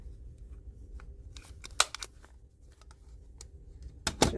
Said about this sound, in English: fold and staple